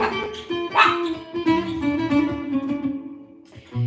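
Small dogs barking and yipping close by in a series of short, uneven barks.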